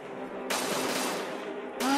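Enemy gunfire in the video game Captain America: Super Soldier, with two bursts of rapid shots, the first longer and the second starting at the very end, loud over game background noise.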